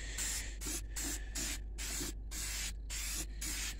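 Aerosol bursts of Walmart Color Place spray paint coating a riding lawnmower, a steady loud hiss repeated in about eight short sprays with brief gaps, close up, no talking.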